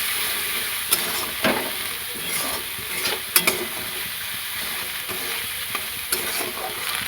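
Spices with a little chilli powder sautéing in oil for aloo dum, a continuous frying sizzle punctuated by sharp scrapes and taps of a spatula against the pan, close and loud, no voices.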